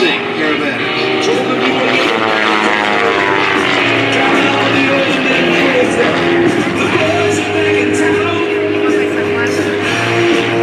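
Aerobatic airplanes fly in formation at an air show at NAS Oceana, producing a loud, continuous propeller-engine drone that holds steady throughout, with a voice talking over it.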